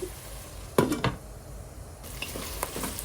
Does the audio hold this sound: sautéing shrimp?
yes